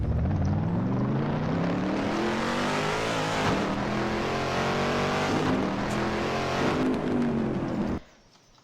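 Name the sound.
car engine driving in Garry's Mod video game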